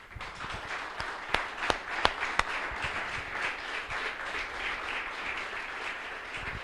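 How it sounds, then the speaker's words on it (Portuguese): A church congregation applauding God, a steady murmur of clapping with several sharp, louder individual claps standing out early on, the sound moderately distant and roomy. "Quem com temor pode aplaudir a Deus?"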